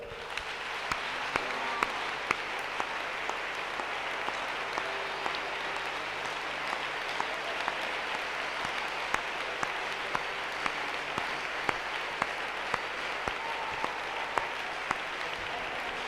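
A crowd at a French Christian youth camp gathering claps steadily and loudly to praise the Lord, a dense sustained applause that fills the room.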